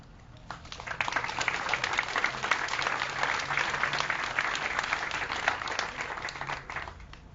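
Audience applause at the Spruce House ribbon cutting ceremony in Hanover, a full, sustained round of clapping from a sizable crowd that swells quickly and holds steady throughout.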